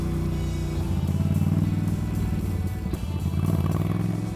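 Moto Guzzi V9 Roamer motorcycle engine on a test ride, a steady close low rumble with a pulsing throb that swells slightly and dips briefly before picking back up, with no talk over it.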